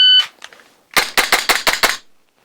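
A Coolfire recoil dry-fire trainer fires a string of six sharp, evenly spaced shots in quick succession, loud and close, preceded by an electronic shot-timer beep and a couple of softer clicks.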